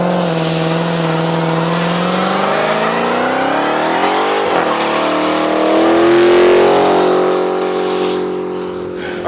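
A supercharged car accelerates hard with a loud, rising exhaust note, gear changes breaking the climbing pitch before it surges past close by and fades slightly into the distance.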